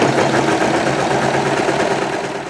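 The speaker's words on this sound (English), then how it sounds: "and start serging." A serger overlock machine runs steadily and loudly while sewing a lined drawstring bag, a close continuous mechanical whir that eases off slightly at the end.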